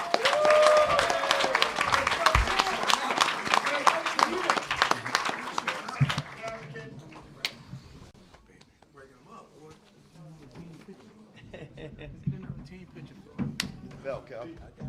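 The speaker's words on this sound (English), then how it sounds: "Big round of applause." Applause at a boxing post-fight press conference: a short burst of clapping mixed with voices, dropping off after a few seconds into talk and room noise.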